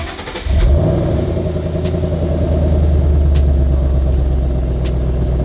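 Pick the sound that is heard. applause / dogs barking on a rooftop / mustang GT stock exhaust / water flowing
mustang GT stock exhaust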